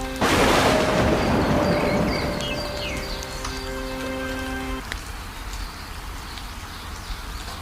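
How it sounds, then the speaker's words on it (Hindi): Steady heavy rain pours down, dense and hissing, with a few brief musical tones ringing over it in the first half. "कल रात से बारिश रुकने का नाम नहीं ले रही"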